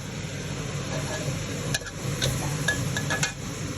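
Chinese kale is stir-fried in a wok. A spatula clinks and scrapes against the metal in quick strokes over a steady, close sizzle.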